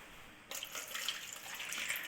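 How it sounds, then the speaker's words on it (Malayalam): Water splashing as it is poured out to clean a bathroom, starting abruptly after a quiet moment and continuing at moderate volume, slightly distant, with no talk. "ഇതിനോട് കുറച്ച് വെള്ളം കൂടെ നമുക്കൊന്ന് ഒഴിച്ചു കൊടുക്കാം."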